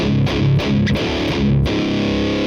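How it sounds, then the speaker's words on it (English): A crunchy, dry, classic 80s–90s-style distorted electric guitar plays a short chugging nu-metal riff of palm-muted chords, upfront, ending on a held chord. "this is more of a dry kind of classic sounding distortion, maybe 80s, 90s"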